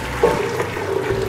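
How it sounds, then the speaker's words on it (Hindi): Chicken stock (yakhni) for a chicken soup is poured back into a bowl, a short, close, continuous splashing gush of liquid heard alone. "अब हम इस अपनी यखनी को बाउल में दोबारा ऐड कर देंगे"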